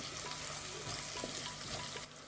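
Tuna fish pieces for pickle frying in a pan while being stirred, a steady close sizzle with occasional scraping, alone without speech.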